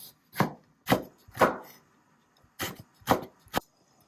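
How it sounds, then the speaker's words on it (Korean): A knife slices vegetables into thin strips on a cutting board for a Busan-style bibim glass noodle dish. Six crisp, separate chopping thuds land close by in uneven pairs with short silent gaps between them, and no one speaks. "얇은 채로 썰어 주세요."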